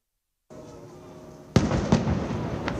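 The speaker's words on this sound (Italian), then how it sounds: "21 colpi di cannone sparati dalla nave della Marina Militare hanno accolto questa mattina l'arrivo in piazza San Marco" A single sharp cannon boom from a Navy ship in Venice near Piazza San Marco, part of a 21-gun salute, bursts out of steady outdoor ambience and rolls into a long echoing rumble with smaller cracks after it.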